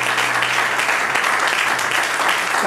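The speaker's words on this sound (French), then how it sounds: "Acclamer encore et encore." A church congregation applauds and acclaims God, giving a loud, dense burst of clapping that fills the whole moment with steady, close applause.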